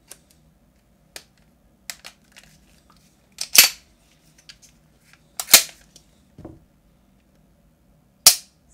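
A CZ-75 pistol at a range gives several sharp, close, snapping reports at irregular intervals, with small clicks of handling in between and no talking.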